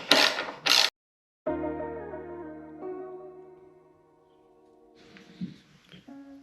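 A ratchet wrench tightens the bolts of a TST Industries fender eliminator on a Honda CRF 250L motorcycle, with two short, sharp bursts of clicking up close, then a sustained harmonic ringing tone that slowly fades.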